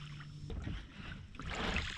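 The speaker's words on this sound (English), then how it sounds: "we're rowing out past all the seaweed right now" Oars rowing a small boat out past seaweed on a bay, a steady close wash of water and low knocking strokes with no talking.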